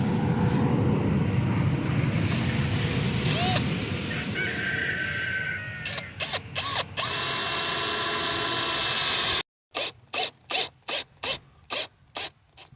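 A power driver sinks lag screws into a wooden raised bed frame: long sustained whirring runs, then a rapid series of short stuttering bursts with brief gaps, close and loud over a steady background hum.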